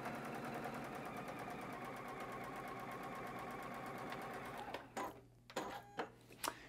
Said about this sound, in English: here we're just going to go ahead and stitch all the way through here